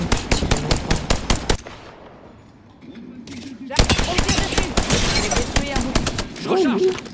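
Rapid bursts of gunfire in the video game Apex Legends, with a run of sharp shots, a short lull, then more dense firing, while players talk over the shooting.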